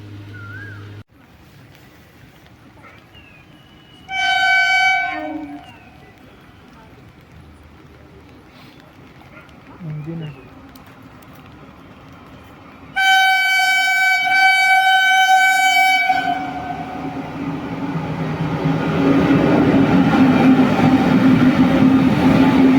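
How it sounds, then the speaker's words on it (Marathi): A train on the Lonavala ghat line gives two loud horn blasts at a railway crossing, the second one long. A growing rumble follows as the engine and carriages roll past. "कारण इथून ट्रेन पास होणार आहे."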